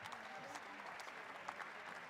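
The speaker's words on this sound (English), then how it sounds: "Let's give our judges a big round of applause." Audience applause for the judges at an entrepreneurship competition, a steady wash of clapping from a crowd, moderately faint and continuous through the short stretch.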